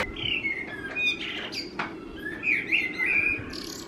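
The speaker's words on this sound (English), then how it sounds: "this bird is making the craziest sounds" A bird lets out a string of odd, squeaky whistles and warbling chirps, close and fairly loud, varied in pitch with short pauses between bursts.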